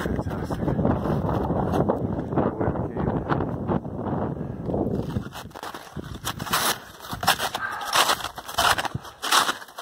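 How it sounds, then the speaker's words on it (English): Strong wind buffets the microphone on a wintry mountain summit in the Santanoni Range, loud rushing gusts that ease midway into choppier, intermittent bursts. "It's a little windy, not as bad as the wind was earlier in Panther."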